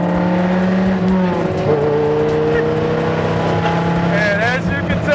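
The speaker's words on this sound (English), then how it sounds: "This is a 3rd gear roll on, folks." A Dodge Viper GTS ACR roars under hard acceleration in third gear, its loud engine note climbing steadily as it pulls, with a passenger-cabin perspective and people talking over the engine.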